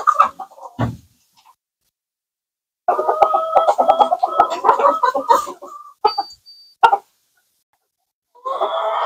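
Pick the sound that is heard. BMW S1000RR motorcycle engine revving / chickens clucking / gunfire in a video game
chickens clucking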